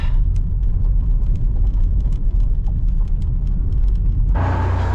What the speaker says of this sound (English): the truck's already been running